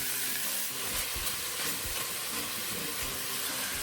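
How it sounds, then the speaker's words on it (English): Salt and garlic sizzling in olive oil with chuck in a pan for sweet and sour cabbage, a steady close frying hiss with soft scraping and stirring knocks as the mixture is broken up. "And then I'm going to add my salt and my garlic. Break that up."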